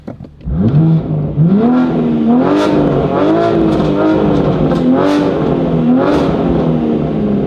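A BMW G80 M3 fitted with an exotic exhaust revs loudly and close up, its engine note rising and falling through several throttle blips with a high-pitched edge at the top.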